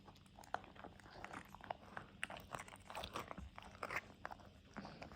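A golden retriever chews and crunches food close by, making irregular soft bites and crunching clicks in a quiet room.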